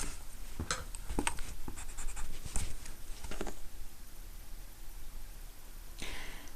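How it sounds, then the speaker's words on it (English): Pencil drawn along a ruler in a one-point perspective sketch, scratching in a few short strokes then pausing, with a softer scrape near the end; close and fairly quiet, no talking. "draw your line down"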